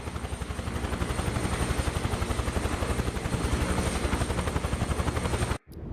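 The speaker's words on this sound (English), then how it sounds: "Maybe we'll fly a helicopter over there." Simulated helicopter in Microsoft Flight Simulator 2024 makes a loud, steady rotor thump and engine drone that continues evenly, then cuts off abruptly near the end.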